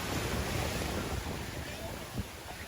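Ocean waves wash onto a beach in a steady roar, mixed with wind buffeting the microphone, with a soft thump near the end.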